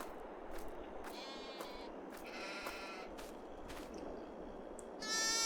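Sheep bleat in a barn in Farming Simulator 22, several wavering calls spaced across a steady background hum and insect-like drone, with no talk.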